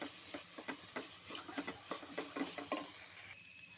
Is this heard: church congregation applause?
no